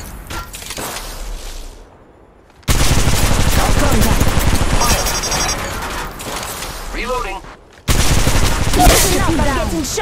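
Bursts of automatic gunfire rattle through an Apex Legends Mobile firefight, loud and dense, broken by a short lull and then resuming, with character voices calling out between the shots.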